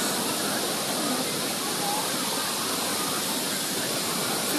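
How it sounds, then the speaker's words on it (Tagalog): Tala Falls waterfall in Bailen, Cavite, a steady, dense roar of falling water that fills the scene without a break. "See that beautiful falls over there"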